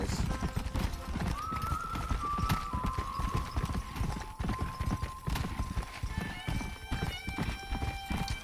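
Horse galloping in the video game Red Dead Redemption, rapid rhythmic hoofbeats pounding steadily up close, with a brief whinny and tonal game sounds mixed in, and no one talking.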